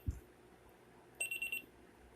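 A Sony Dream Machine analog alarm clock sounding its alarm, a brief burst of rapid high electronic beeps in a quiet room, faint and close, after a soft thump.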